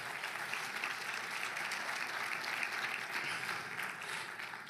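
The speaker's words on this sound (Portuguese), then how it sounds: "Dê para Jesus uma forte salva de palmas." Church congregation at a Baptist prayer meeting giving a sustained round of applause, steady and fairly faint, a broad even patter of many hands with no talk over it.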